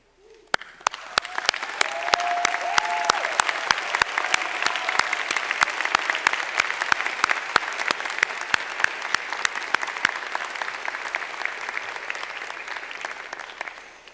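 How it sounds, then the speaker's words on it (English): Graduating students at the Johns Hopkins SAIS 2022 commencement stand and applaud their families and friends, a broad sustained ovation that swells quickly and holds for about fourteen seconds, with sharp close claps standing out and a faint whistle early on. "So I'll ask our students to stand and applaud them for the love and commitment they have showed you."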